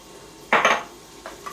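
Meat being mixed with garlic salt in a dish: a couple of short clattering scrapes of utensil against the bowl, close and fairly loud, between quiet pauses.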